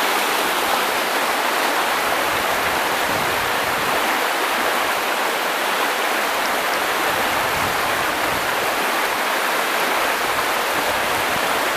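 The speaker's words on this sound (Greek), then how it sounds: "Τι αφρά το νερό είναι αυτό" A foaming stream rushes along steadily, a loud broadband roar of churning water that holds constant and close throughout.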